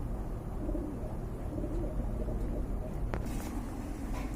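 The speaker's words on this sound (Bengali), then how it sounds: "এক জোড়া জাক কবুতর দেখতে পাচ্ছেন ভাই" Pigeons cooing close by, soft low repeated coos over a dense steady background murmur, no talk.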